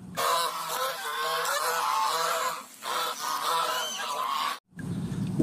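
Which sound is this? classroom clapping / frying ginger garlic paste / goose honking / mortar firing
goose honking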